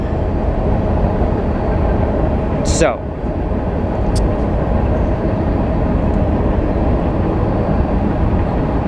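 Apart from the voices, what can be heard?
train passing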